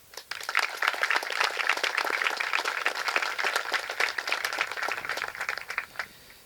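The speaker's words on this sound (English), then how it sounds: "we all have to give a big round of applause for Miss Lloyd" An audience at a 2021 graduation ceremony breaks into applause, a sustained crackle of many hands clapping at moderate distance that rises quickly, holds, then tapers off.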